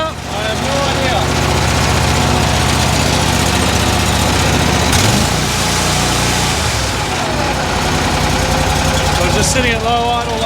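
An engine sits at low idle, a steady close rumble with a steady throb, briefly shifting in tone midway before settling back.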